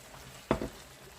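Chicken liver sizzling in a frying pan, a low steady crackle with one short, louder burst of spitting in the middle.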